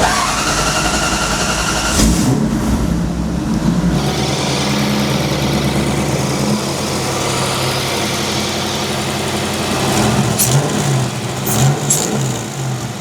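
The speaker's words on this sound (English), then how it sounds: "there's definitely an exhaust leak over here" A supercharged 4-liter V8 in a drift truck, running 9.5 pounds of boost and with an exhaust leak, roars loudly up close, holding a heavy rumbling rev that swells and eases in pitch over several seconds.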